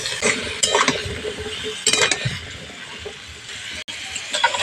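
Cut papaya pieces tumble into hot mustard oil in a wok, bursts of clatter and scraping stirs with soft sizzling beneath, spaced in irregular clusters close to the pan.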